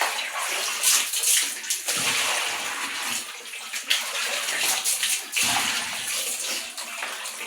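Water being poured into a container outdoors, a steady splashing, sloshing stream with brief pauses, close and fairly loud throughout.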